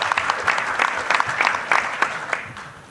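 An audience at a speed debate session of a security conference claps in a short burst of applause, dense and fairly close, fading out after a few seconds.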